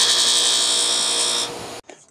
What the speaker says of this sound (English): So I'm going to take it over to my buffer.